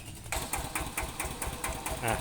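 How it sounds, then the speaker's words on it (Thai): Small engine running to charge a solar-system battery, giving a steady, rapid chugging pulse at low volume throughout. "ก็ได้ทำการสตาร์ทเครื่องยนต์แล้วนะครับ"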